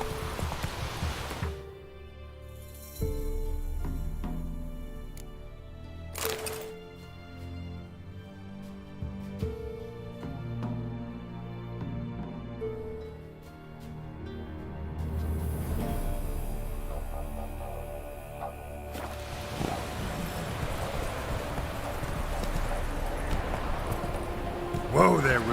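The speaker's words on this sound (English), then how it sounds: "Whoa there, Roach" A horse ridden in the open-world game The Witcher 3, its hooves clip-clopping steadily under a swelling orchestral score, with occasional rustling and a voice speaking over parts of it.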